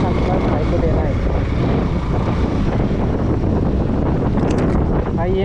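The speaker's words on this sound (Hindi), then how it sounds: "बहुत ज़्यादा हवा आ रहा है। बाइक चलाने में ये ही दिक्कत होता है।" Strong wind roaring over the microphone while riding a motorbike, a constant loud, buffeting rush that fills the whole clip with no clear break.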